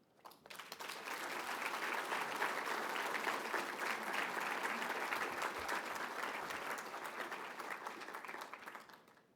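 Steady audience applause at an award ceremony during an annual meeting's opening plenary, starting abruptly, holding dense and even for several seconds, then thinning out toward the end.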